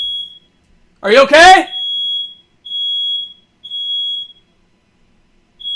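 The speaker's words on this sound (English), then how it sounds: "Oh, smoke alarm's going off in my house." A home smoke alarm, set off by cooking smoke, sounds a string of short, shrill beeps at a steady pace, and a voice briefly calls out over the first beep.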